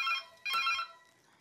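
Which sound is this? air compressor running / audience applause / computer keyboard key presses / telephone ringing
telephone ringing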